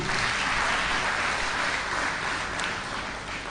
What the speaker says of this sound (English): A round of applause for you that made it.